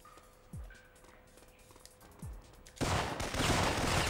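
Video-game gunfire in Syphon Filter: scattered single shots with falling thuds early on, then a dense, loud burst of rapid fire in the final second, all without speech.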